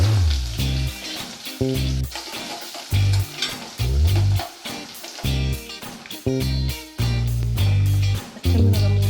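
Mustard seeds and curry leaves sizzle and crackle in hot oil for a Tamil cauliflower, potato and peas kurma, in loud repeated bursts with short quieter gaps between them.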